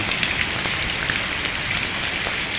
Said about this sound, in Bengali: এত পরিমাণে বৃষ্টি আর কি হচ্ছে এখন